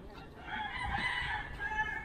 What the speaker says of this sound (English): So maybe these are cockfighting chickens and this is like a cockfighting farm or something.